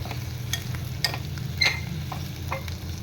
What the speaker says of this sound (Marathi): सर्व बटाटे टाकून घेतले त्याच्यामध्ये आणि हे मस्त ढवळून घेणार आहे